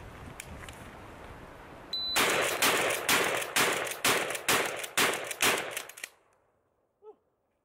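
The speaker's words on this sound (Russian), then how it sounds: "Нажимаю старт, раздается, начинаю стрелять и делаю это как можно быстрее." A pump-action semi-automatic shotgun, loaded with eight shells, fires in a rapid string of about seven loud, close, evenly spaced blasts. Faint beeps come before and after the shots.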